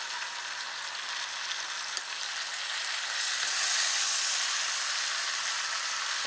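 Bacon-fried deer heart sizzles steadily in a hot frying pan, a bright crackling hiss that swells slightly midway, close by and without talk.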